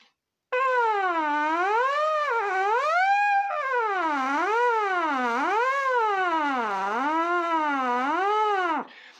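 A continuous buzzing tone with a brassy, hollow quality, made by lips buzzing into a hollow fist, rises and falls in smooth repeated waves, like a siren, before stopping abruptly.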